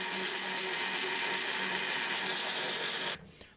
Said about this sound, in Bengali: আমি ব্লেন্ডারটা ছেড়ে দিলাম।